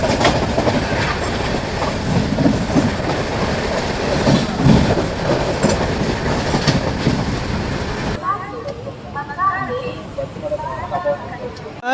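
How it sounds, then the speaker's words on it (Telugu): Running train noise from the KSR Bengaluru Superfast Mail on its approach to Katpadi Junction: a loud, steady rumble with rail clatter for about eight seconds, then a sudden drop to quieter ambience with faint sounds. "మన ట్రైన్ వచ్చేసండి కాట్పాడి జంక్షన్కి అయితే వచ్చేసింది"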